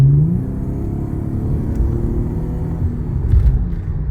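Infiniti car accelerating at roughly a third of throttle, a steady, loud low engine drone and road rumble heard from inside, with no talking.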